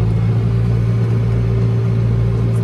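A farm tractor engine runs to drive the PTO during cow-feeding chores, a loud, steady, close rumble that holds constant throughout with no voices.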